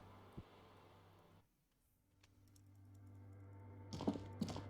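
Keyboard typing inside the Disco Elysium video game, a quiet run of soft clicks set against a low steady hum, with a few sharper taps near the end.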